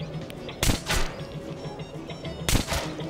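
Gunfire in the video game Metro 2033 Redux: two sharp, loud blasts about two seconds apart, each followed by a brief rattling tail, over a quiet ambient background.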